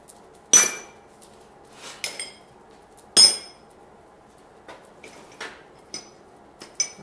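Blacksmith's forging tools clink and clang as they are picked up and set down in a workshop, several sharp metallic hits spaced irregularly with quieter clatter between them.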